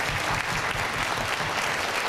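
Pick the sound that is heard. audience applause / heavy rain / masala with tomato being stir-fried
audience applause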